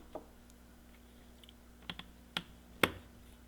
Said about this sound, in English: I have a side cutters here that let's just cut this off and then remove it